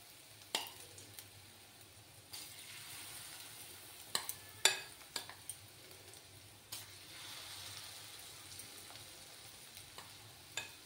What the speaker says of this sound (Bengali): এবার একে একে বড়াগুলো ভেজে নেব